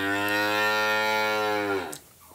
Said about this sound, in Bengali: হাই কোয়ালিটি এবং হাই পার্সেন্টের গরু